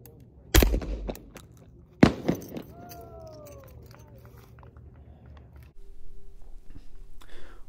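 A Remington Model 11 Sportsman 16 gauge semi-automatic shotgun fires two loud, sharp shots about a second and a half apart outdoors, each followed by a short ringing decay, then quieter ambient sounds.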